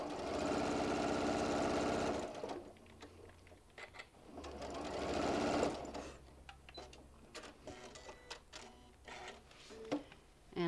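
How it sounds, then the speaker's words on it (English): A sewing machine stitches bean bag fabric in two steady, loud runs of fast mechanical whirring, then stops, leaving quieter clicks and handling noises with no talking. "Now I'm sewing all the way off to the edge."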